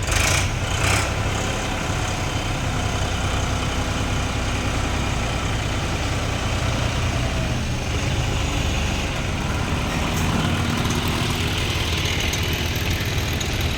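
A tractor engine rumbles steadily and loudly at close range while it is unloaded from a truck, a constant low drone with no talk over it.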